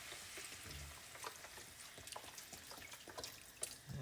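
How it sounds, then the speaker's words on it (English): Chicken broth is poured into a pan holding flour for a rotisserie chicken pie, a soft, quiet liquid splash and trickle with faint sizzling, and no talking. "I'm going to pour in about a half a container of chicken broth"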